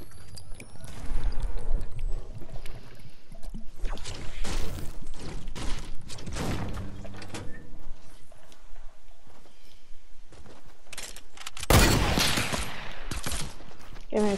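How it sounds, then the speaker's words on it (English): Grenade blasts and gunfire from a Fortnite duos match crackle through the scene, with dense bursts of shots and a loud explosive burst near the end, mixed under intermittent game noise. "Someone's throwing grenades at me."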